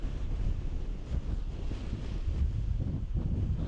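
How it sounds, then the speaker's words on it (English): Steady gusting wind buffets the microphone with a continuous low rumble, no voices, on the Dragon's Back ridge in the Peak District around sunrise. "it's a bit on the windy side there."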